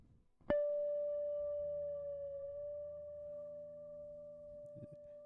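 A single electric guitar note rings out and sustains, its pitch bending slightly as the guitar is pulled out of tune, with faint rattling near the end.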